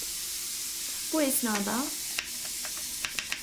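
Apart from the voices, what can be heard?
beef sizzling in a hot pan for fajitas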